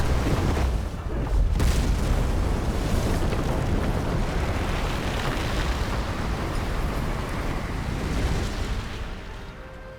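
A nuclear bomb detonates in the strategy game Civilization 7, a massive sustained roaring boom that rumbles loudly across the whole stretch, fading slightly at the end.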